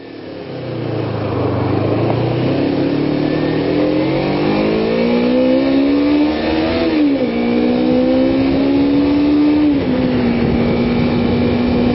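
A Kawasaki Ninja 250 motorcycle on a cold December start, caught at a red light after stalling, cranks on the starter with the throttle wide open, then catches and revs steadily upward, its pitch climbing, dipping briefly and holding high, loud and close throughout.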